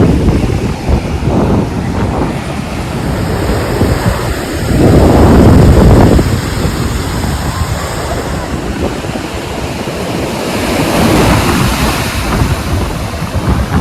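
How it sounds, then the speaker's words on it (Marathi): Heavy ocean surf crashes and rolls continuously onto Candolim Beach, Goa, in the monsoon, with gusts of wind buffeting the microphone and a louder wave surge midway. "बीचचे लाटा जी येतात ना जबरदस्त लाटा येतात"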